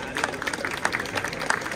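Audience applause at a CSD 2024 Pride event panel with bar and venue hosts, a steady wash of clapping with scattered sharper claps and some crowd murmur, moderately distant and continuous.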